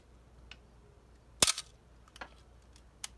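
A Canon AE-1 camera shutter fires at 1/1000 second: one sharp, close click followed by a few faint mechanical ticks in an otherwise near-silent space.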